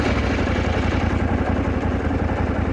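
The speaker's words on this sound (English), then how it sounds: "Let's start the engine." A KTM 790 Adventure motorcycle engine idles close by, a steady, low, throbbing rumble with an even, slightly clattery pulse.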